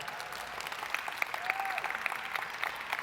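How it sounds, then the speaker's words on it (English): Audience applause at a tech inclusion conference main stage, a steady wash of clapping from a seated crowd filling the room at moderate level, with a brief tonal whistle or feedback sweep partway through. "I want a round of applause for him."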